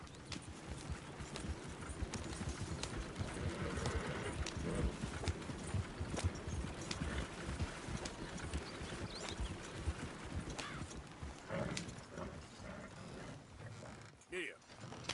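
Horse hooves clip-clop steadily in the Red Dead Redemption 2 video game, a continuous rhythmic plodding mixed with creaking tack and mechanical rattles, fairly close and moderately loud, with a brief sharper clatter near the end.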